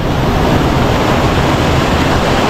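Turbulent water of the Lawang River in Casiguran, Aurora rushes loudly and continuously, a dense close roar without pause.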